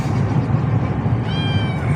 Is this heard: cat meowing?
yes